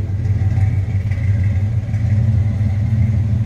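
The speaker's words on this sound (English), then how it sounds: "This truck does have headers, dual exhaust, and it sounds good." A 1985 Chevrolet K10 Silverado's V8 with headers and dual exhaust idles with a steady, close, deep throaty rumble that stays even throughout.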